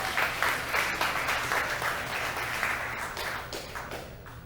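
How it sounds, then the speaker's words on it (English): Steady applause from an audience at a Global Game Jam showcase as a team representative comes up, even dense clapping filling the whole stretch, moderately close. "One round of applause."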